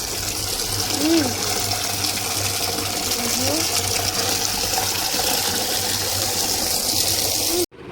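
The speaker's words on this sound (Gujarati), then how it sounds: "અહીંયાથી પાણી આવે. જો અહીંથી પાણી આવે." Water runs from a specially fitted tap in a steady, continuous hissing flow, with voices speaking briefly over it.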